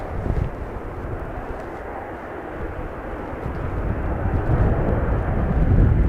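Airliner landing in a strong crosswind at Dublin Airport: a broad, steady jet roar that swells gradually louder and nearer, with no talk over it.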